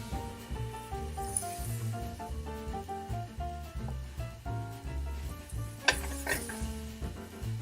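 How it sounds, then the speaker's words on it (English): Scallops searing flat side down in a hot Teflon-coated pan, a steady sizzle running under loud, continuous music. "You want to hear that little sizzle."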